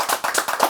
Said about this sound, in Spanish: Por favor, un fuerte aplauso para Carlos